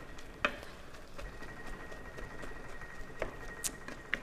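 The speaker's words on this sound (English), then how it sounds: "as our hamburger browns and gets good and brown with the onions in there" Ground hamburger browns with onions in a pan for a casserole, a soft steady patter and sizzle with a few sharper clinks of a utensil against the pan, moderately close and with no voices.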